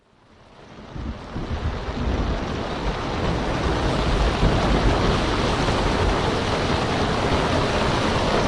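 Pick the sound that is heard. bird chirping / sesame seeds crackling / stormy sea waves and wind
stormy sea waves and wind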